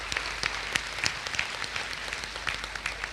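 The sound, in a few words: applause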